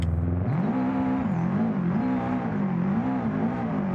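A rally car's exhaust drones loudly in BeamNG.drive during a Zakarpattia rally championship race, the engine note jumping up early and then wavering as the revs rise and dip, with no one speaking.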